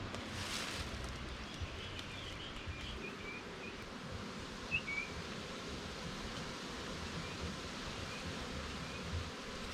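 Honey bees hum around old brood comb frames lifted from a hive, a soft continuous buzzing drone with occasional louder passes from individual bees close by.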